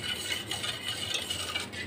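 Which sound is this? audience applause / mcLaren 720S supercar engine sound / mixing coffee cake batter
mixing coffee cake batter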